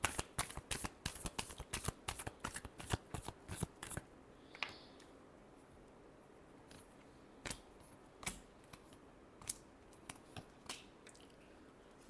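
Tarot cards are shuffled by hand in quick bursts of crisp riffling clicks for the first few seconds, then settle into a few scattered, sparse card snaps against quiet room tone.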